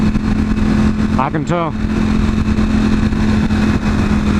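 A Ducati V4-family motorcycle, either a V4R or a 2020 V4 or V4S, revs loudly nearby with a steady engine drone and a brief rising and falling throttle blip in the middle, while a voice speaks over it.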